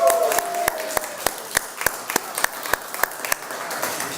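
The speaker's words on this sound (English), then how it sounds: "That's worth a clap." Scattered, evenly paced hand claps from a small audience at a business management meeting, crisp and close, with a brief tone sounding early on.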